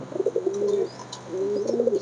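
White Lakkha pigeons at a farm coo in two close, rolling phrases with a short pause between them, clear and nearby.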